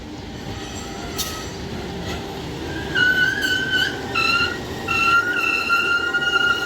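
A vintage-livery CC 203 diesel locomotive shunting onto a track at Lempuyangan junction, with a steady rumbling engine drone and repeated high metallic wheel squeals rising over it, no talk.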